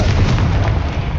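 A Confringo blasting spell goes off in Hogwarts Legacy, a loud sustained fiery rumble with a heavy low boom that stays dense and roaring for the whole moment.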